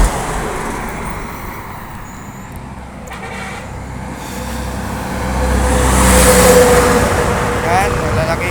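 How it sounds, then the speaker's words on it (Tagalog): Large trucks and other vehicles pass on a highway, a steady roadway rumble that swells as a heavy vehicle draws near and roars by, with a short horn toot and people talking nearby. "Yan, malalaking truck."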